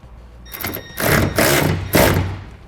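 A hand tool tightens a clamp on the rail of a RetraxPRO MX hard tonneau cover on a 2017 Ford F-250 Super Duty bed, in three close ratcheting bursts of grinding clicks.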